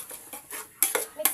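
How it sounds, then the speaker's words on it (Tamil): Metal spoon scraping and clanking in a pan as ingredients are sautéed for prawn biryani, a quick series of close stirring scrapes that grow louder in the last half second, with a faint sizzle beneath. "வதக்கிக்கலாம்."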